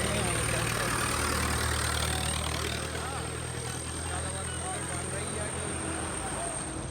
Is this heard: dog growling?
no